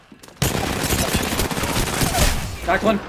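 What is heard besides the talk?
gunfire in Apex Legends video game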